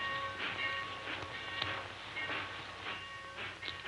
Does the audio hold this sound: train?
yes